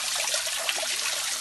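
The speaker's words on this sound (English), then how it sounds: "It's actually coming right out from the rock." Spring water trickles straight out of the rock inside a grotto, forming a small waterfall that makes a continuous bright splashing and babbling close by.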